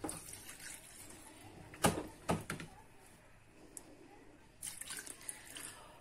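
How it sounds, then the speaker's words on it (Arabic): About two glasses of water are poured over coriander and parsley in a pot, making quiet splashes and drips in a few short bursts, with calm pauses between them. "وغادي نخويو عليها واحد جوج كيسان ديال الماء"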